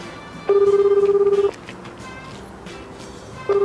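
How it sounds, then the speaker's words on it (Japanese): An outgoing telephone call rings back in a quiet room, giving a steady electronic tone for about a second, a two-second pause, then the next ring starting. "そしたらちょっとお電話かけていただいてもよろしいですか。"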